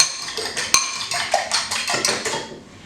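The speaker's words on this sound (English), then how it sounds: "Give that a quick little stir again" Beaten eggs seasoned with black pepper and kosher salt, given a quick stir with a fork in a bowl, producing a rapid series of light clinking taps against the dish, close and fairly crisp.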